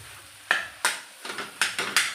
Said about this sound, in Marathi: हे बटाटे आपण हाताने स्मॅश करून घेतलेले आहेत ते घालून घेऊया सर्व आणि याप्रमाणे छान मिक्स करून घेऊया